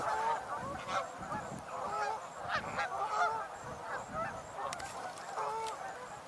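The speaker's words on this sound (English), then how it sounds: "a couple of American black ducks right there" American black ducks calling outdoors, a run of repeated honking, goose-like quacks at moderate distance over steady background noise.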